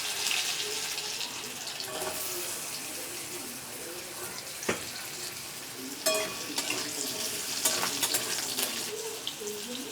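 Thin, finely cut potatoes frying in a pan with cumin seeds and a bay leaf, a steady soft sizzle with occasional stirring clinks and scrapes, no talking.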